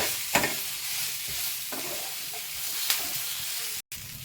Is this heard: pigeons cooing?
no